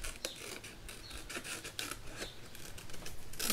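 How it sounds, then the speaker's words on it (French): Scissors cut around the outline of a paper design for a craft piece, producing close, quiet snips and rasping slides in an irregular rhythm with no voices. "Donc là, on découpe tout autour"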